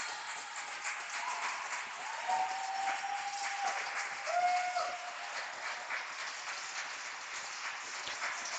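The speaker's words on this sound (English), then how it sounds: "And they are cheering on Caden right now." Parents in the stands at a 12-and-under swim meet cheer and clap for a swimmer, a steady, echoing crowd wash heard from a distance and fairly faint throughout.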